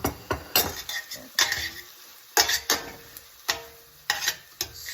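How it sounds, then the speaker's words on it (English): Broccoli with onion, garlic and ginger is stirred in a pan, a close series of sharp utensil clacks and scrapes against the metal over a faint sizzle. "Stir it around a coat."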